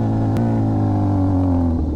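A Honda CB1000 motorcycle engine revs steadily at close range, a strong droning exhaust note with rising harmonics and a brief sharp click near the start, with no speech.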